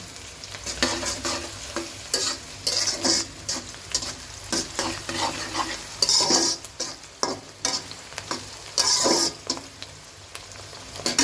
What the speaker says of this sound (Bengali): এর মধ্যে এখন গরম মশলাগুলো দিয়ে দিব, তেজপাতাগুলো দিয়ে দিলাম, সব মিক্স মশলা